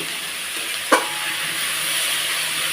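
Cabbage and potato fry in a pan on a gas flame with a steady, close sizzling hiss throughout, broken once by a brief soft clatter, and nobody speaks.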